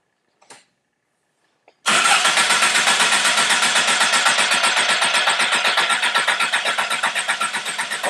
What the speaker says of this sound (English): let's do an extended crank time